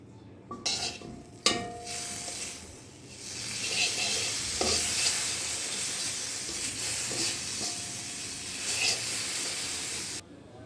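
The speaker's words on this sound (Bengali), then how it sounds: "মশলা মোটামুটি ভাজা হয়ে গেলে এখন দিয়ে দিচ্ছি এক চামচ দই" Spices sizzle in a hot pan as a spoonful of plain yogurt is added and stirred in for a vegetarian chhana curry, a steady close frying hiss with scraping stirs and occasional clinks.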